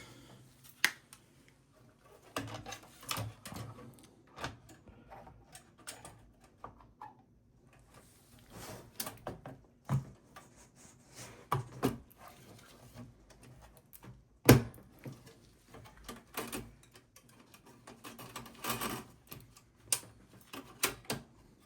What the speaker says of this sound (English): Now what I'll do is install the video card.